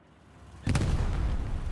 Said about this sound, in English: Wait, that explosion?